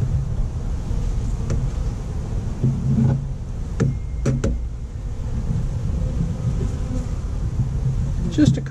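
Honey bees hum in a low, continuous drone close by at an urban beehive during a hive check, with a few sharp clicks and knocks scattered through the buzzing.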